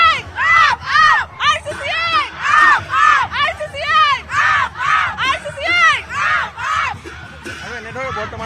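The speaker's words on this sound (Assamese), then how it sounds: "সমৰ্থকসকলেও আচলতে ফূৰ্তি কৰা বা তেওঁলোকে হৰ্ষ উল্লাস কৰা দেখিবলৈ পোৱা গৈছে" Supporters celebrate a winning side at the 2024 Gauhati University election with loud, rhythmic chanting and cheering. The crowd shouts in repeated pulses, close and energetic, through the whole stretch.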